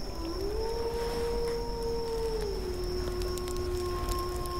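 Wolves howl in a horror video game, a long sustained tonal howl rising then sliding lower and holding steady, with a higher thin tone above, over a constant ambient night background with no voices.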